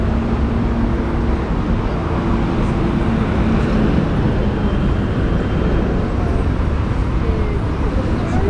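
Dense, continuous traffic noise fills a main street in Athens, Greece, along Pharmacy Row, a steady wash of passing cars and engines with a low hum heard from the sidewalk.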